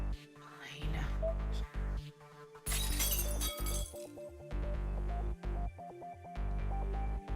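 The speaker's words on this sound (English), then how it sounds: "I hear glass shattering." Glass shatters in a scene from the Fate/Stay Night Remastered visual novel, a loud bright burst of breaking glass set over a steady droning music bed, with sharp clinks and hits recurring throughout.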